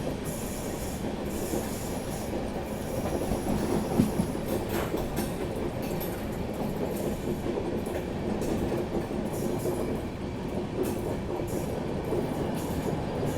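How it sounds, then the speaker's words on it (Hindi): A diesel train rumbles past nearby in India with a loud, steady roar, rattling wheels and occasional squeals, no voices. "आवाज़ से लग रहा है जैसे कोई डीजल वाली ट्रेन आ रही हो"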